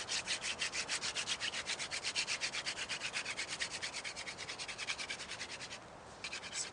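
A wooden spindle rubbed for a primitive friction fire, giving a steady, rapid back-and-forth scraping rhythm, close and continuous, with one brief pause near the end and no talking.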